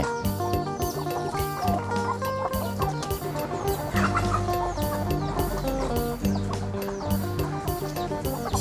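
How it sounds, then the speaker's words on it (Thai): Free-range backyard chickens cluck and squabble while being fed, busy overlapping clucks from a large flock close by, heard over rhythmic music that runs throughout. "ไก่ครับมาดูไก่ครับ ให้อาหารมันกินนะครับ ไก่เยอะมากเลยครับ"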